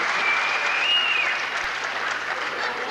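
A crowd at a televised professional wrestling bout applauds a move in the ring, sustained clapping spread evenly across the hall with a faint whistle riding on top.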